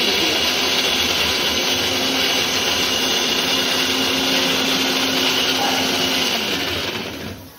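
Loud mixer grinder whirring steadily as it grinds green chillies with cumin and salt for a spicy thecha, a continuous close roar running for about seven seconds before winding down.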